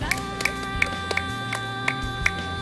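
Sharp hand claps ring out at an outdoor interactive light art installation at Vivid Sydney in Circular Quay, about seven spaced claps over a steady electronic hum and background sound.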